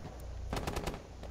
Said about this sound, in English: My guns are not auto-firing. They're just sort of shitting out bullets.